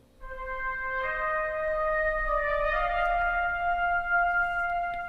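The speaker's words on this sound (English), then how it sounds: "the solo trumpet, it sounds like this." A sampled solo trumpet from an orchestral library plays a short legato phrase of a few sustained, clear notes, close and fairly loud with a faint low hum beneath and no talking.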